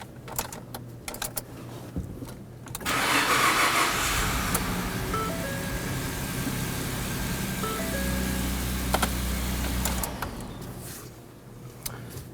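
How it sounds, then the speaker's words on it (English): A 2009-2014 Ford F-150 with a 3.5L V6 cranks and starts after a high pressure fuel pump replacement, a loud sustained engine sound settling into a steady run for several seconds before cutting off. "you can go ahead and try and start the engine"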